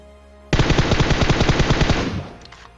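Automatic gunfire in the video game PUBG Mobile, a sudden loud close burst of rapid, evenly spaced shots lasting about a second and a half before fading.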